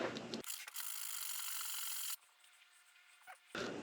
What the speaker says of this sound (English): let's go ahead and get this guy sanded